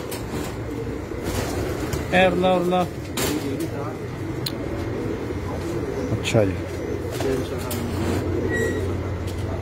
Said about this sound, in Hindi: ये सलारा कबूतर है जी मेरा माशाल्लाह जी।